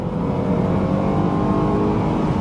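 A BMW M3 E93 convertible engine pulls hard under acceleration from inside the car, a loud continuous low drone rising steadily in pitch, with no talking.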